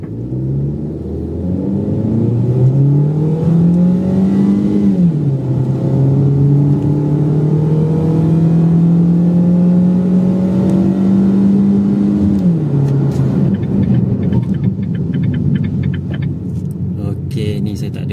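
A Proton Saga 1.5 with automatic transmission accelerating hard from a standstill toward 100 km/h, engine droning loudly as revs climb, with shift drops and renewed climbs, heard from inside the cabin.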